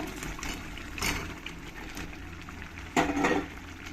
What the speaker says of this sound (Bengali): এবার আমি এর মধ্যে চিকেনটাকে ঢেলে দেবো